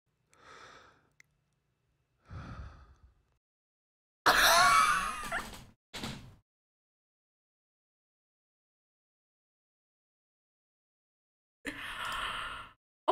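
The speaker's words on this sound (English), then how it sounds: "That's corpse breathing." Several separate breathy sighs and gasps from a corpse, with a heavy rasping exhale in the middle, isolated bursts broken by silence.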